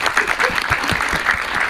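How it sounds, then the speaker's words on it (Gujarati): An audience applauds actor Karan Joshi at a star-cast event for the film Lalo Shree Krishna Sahayte. The clapping is loud and continuous from a crowd, with voices faintly audible beneath it. "એ અત્યારે મુંબઈ બેઠો છે પણ એના માટે તાળીઓ થવી જોઈએ બહુ"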